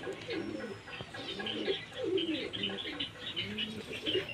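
Pigeons on a rooftop coo steadily and close by, with repeated throaty rolling calls overlapping and a few light chirps mixed in, no voices.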